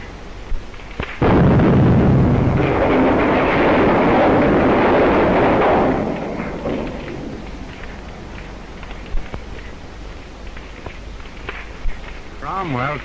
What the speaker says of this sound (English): Duck, quick, before that gas tank explodes.